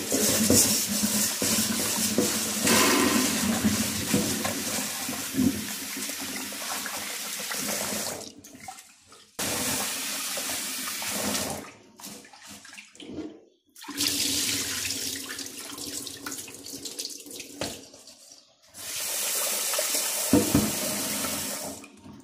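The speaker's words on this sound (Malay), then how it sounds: "pertama kita cuci beras dulu" Rice being washed under a running kitchen tap for Hainanese chicken rice, a steady loud gush of water into a sink that stops and restarts several times, with no talk.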